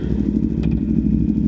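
A 2018 Aprilia Tuono V4 1100 Factory motorcycle on the move gives a loud, steady low engine rumble heard close up, with wind noise blended in across the short stretch.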